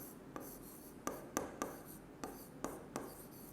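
Chalk or marker strokes on a board during a maths class, a series of short sharp taps and scratches in an uneven rhythm, close and fairly quiet, with no speech.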